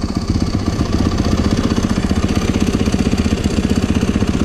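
A snow bike engine runs steadily at a fast idle, a loud, close mechanical drone with a rapid even pulsing beat and no voices.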